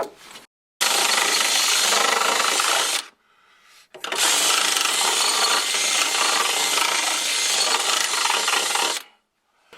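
Loud power-tool cutting of steel screw tubes for a Panhard bar on a 1993 Ford Mustang GT, two long harsh grinding bursts with a brief pause between, close and dominant with no talk.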